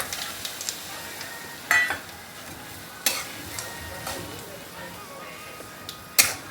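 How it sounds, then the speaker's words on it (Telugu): Jaggery stirred into hot oil with asafoetida, mustard seeds and fenugreek for a mango pickle, giving a soft continuous sizzle broken by a few sharp scrapes and clinks of the spoon against the pan. "ఈ నూనెలోని కొంచెం బెల్లం పాకం ఇలా పట్టేస్తే జస్ట్ బెల్లం కరిగే వరకు."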